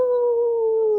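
A voice imitates a howl, copying a sound like a kid howling heard during the day: one loud, sustained, steady wail held for about a second, close and alone.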